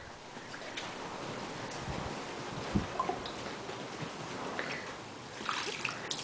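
Water poured into mud as a child mixes it by hand, a continuous splashy trickle and wet slosh with a few sharper plops, close by and moderately loud.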